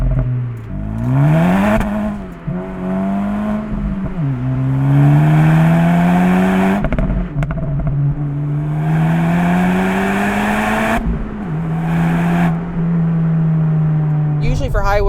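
A 2024 Acura Integra Type S engine drones and bubbles on deceleration, its pitch rising and falling across several throttle lifts and shifts, loud and close throughout, with a voice speaking over it.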